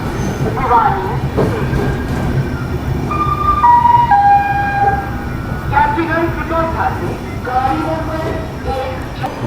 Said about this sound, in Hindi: Kalindi Express is just arriving on platform number.